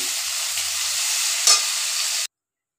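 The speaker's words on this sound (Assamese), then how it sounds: "মাছখিনি ফ্ৰাই হৈ গ'ল, এতিয়া মই লাহেকৈ উল্টাই দিম।" Small chisgri fish fry in hot oil in a pan, a steady loud sizzle that runs without a break, with one brief clatter about halfway through as the pieces are flipped. The sizzle then cuts off abruptly.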